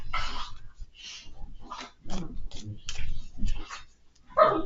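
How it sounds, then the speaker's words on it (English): Two dogs play close by in a house, trading short yips, whimpers, playful growls and a few barks in irregular bursts. "My dogs are playing."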